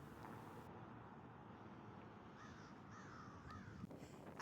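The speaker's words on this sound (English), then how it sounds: "you can hear the crows plotting." Crows cawing in the distance outdoors, two or three faint calls over a steady background of wind and traffic-like rumble.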